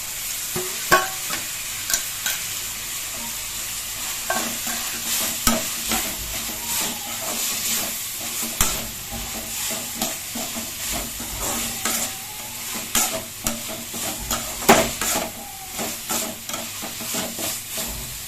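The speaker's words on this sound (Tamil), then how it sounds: "தக்காளி ஒரு 3 நிமிஷம் வதங்கட்டும்" Onion and tomato sautéing in a pan for a Tamil chicken curry, with a steady oily sizzle and repeated spoon scrapes and stirring clatters running throughout, close and with no talk.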